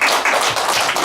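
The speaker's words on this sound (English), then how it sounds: "Give them a round of applause" A group of students in a classroom claps together in a short, dense burst of applause, steady and close with no pauses.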